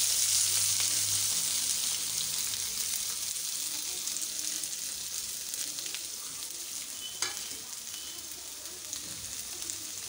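Vegetables including cauliflower sauté with curry leaves in a hot pan, a steady close sizzle and crackle with occasional stirring scrapes, no voices over it.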